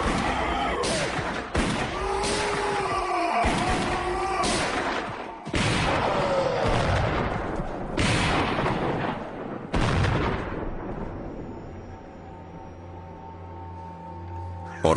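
Soldiers' gunfire rings out in a rapid series of loud, sharp shots and booming blasts that echo as if in a cave, then fades to a quieter rumble.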